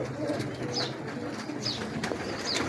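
A Jaunsara pigeon held in the hand gives soft, repeated coos against low background noise, close by, with faint room sounds and no clear speech.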